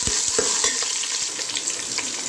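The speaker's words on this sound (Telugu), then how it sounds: "ఇవి మొత్తం లైట్ గోల్డ్ కలర్ వచ్చేంత వరకు ఫ్రై చేసుకోవాలి" Onions, green chillies, carrot pieces and curry leaves fry in oil with a loud crackling sizzle, punctuated by quick scraping stirs and spatula knocks in a brisk rhythm.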